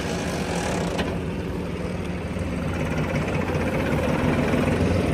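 A Massey Ferguson 9500 tractor engine runs steadily and close by, a continuous rumbling drone that holds an even level throughout with no pauses or other sounds.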